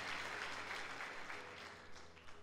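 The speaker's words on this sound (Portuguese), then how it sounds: "E dá um aplauso ao Senhor Jesus." A church congregation claps in a sustained, dense wash of applause during a Sunday service, heard at a steady moderate level with slight fading toward the end.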